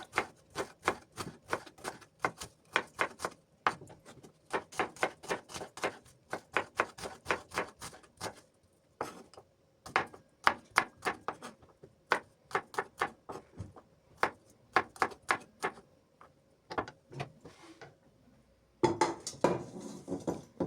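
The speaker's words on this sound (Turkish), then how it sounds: "1 adet kuru soğan ve 3 diş sarımsağı ufak ufak küp küp doğrayalım." A knife taps rapidly against a cutting board in fast, uneven bursts while dicing onion and garlic, close up, with brief pauses between runs.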